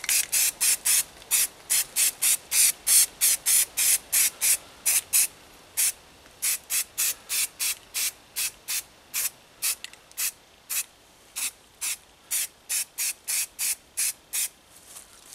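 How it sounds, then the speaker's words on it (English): A spray can of white primer hisses in many short, rhythmic bursts, each a sharp puff of spray separated by brief pauses, close and fairly loud. "To correct that, to reset, spray paint."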